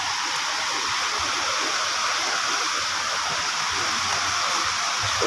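Flowing stream water in Buhi, Camarines Sur, a continuous, loud, even rushing hiss that holds steady throughout with no voices.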